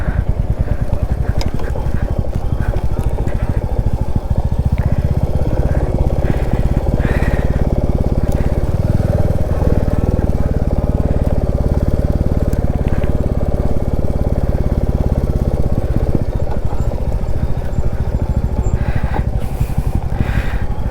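A Royal Enfield Meteor 350 motorcycle rides an off-road dirt trail near a temple, its engine a steady, loud, continuous drone with shifting throttle and wind buffeting throughout, no talk.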